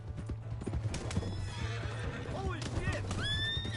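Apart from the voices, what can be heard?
horse clip-clopping and neighing in the video game Red Dead Redemption 2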